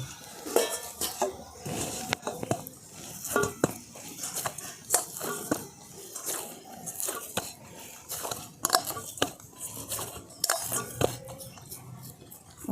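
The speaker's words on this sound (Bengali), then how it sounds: "এদিকে আমি ঢাকাটা খুলে ক্লাব কচুরির ডোটাকে আরেকবার ভালো করে মেখে নিচ্ছি" A lid lifted and club kachuri dough worked by hand in a kitchen, giving a dense, close run of soft slaps, squelches and light clatter with rhythmic pressing throughout and no talking.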